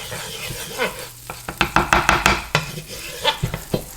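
Butter sizzles softly in a frying pan, with scraping and light clinks from stirring.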